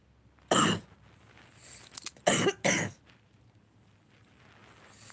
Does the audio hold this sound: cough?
yes